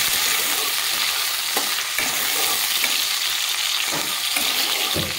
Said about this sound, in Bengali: পনিরটাকে আমি পেঁয়াজের সাথে একটু হালকা নেড়ে চেড়ে নেব।